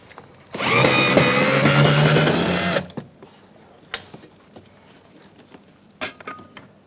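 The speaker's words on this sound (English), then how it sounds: "Remove the screw using a Phillips screwdriver or drill bit." A power drill backs a Phillips screw out of the exterior door of a 2002-2006 Toyota Camry, a loud close whir of about two seconds, followed by a few faint clicks and taps.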